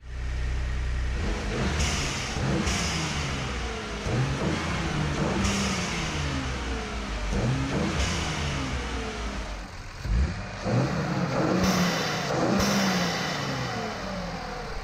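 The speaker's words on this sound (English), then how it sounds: "have the air come out of the bypass valve and go directly into the atmosphere to make that noise, you know, the iconic turbo noise for blow-off valves" A turbocharged car engine revs repeatedly while its blow-off valve vents straight to atmosphere, giving loud, near revs broken by sharp whooshing bursts of released air.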